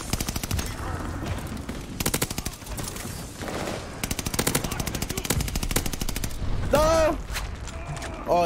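Rapid automatic Cooper Carbine fire in a first-person shooter comes in repeated close bursts, broken by short pauses and in-game effects, with some talk mixed in.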